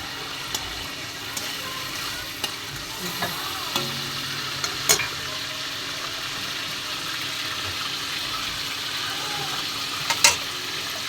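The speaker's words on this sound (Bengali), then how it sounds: "ওই তেলেই এবার একটু কালো জিরা ফোড়ন দিয়ে" Nigella seeds crackle and sizzle in hot oil for a Bengali mustard shrimp dish, a steady close frying hiss broken by occasional utensil clicks and taps.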